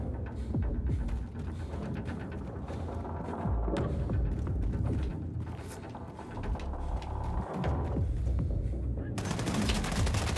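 Dense, loud gunfire from Wolfenstein 2: The New Colossus, with rapid automatic bursts and heavy shots crowding the whole span under game noise and faint player voices.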